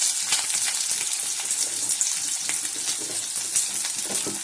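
Potato, green banana and sweet potato sizzle in hot oil for a Bengali shukto, a close, loud, crackling hiss with bursts of popping, steady throughout and with no talk.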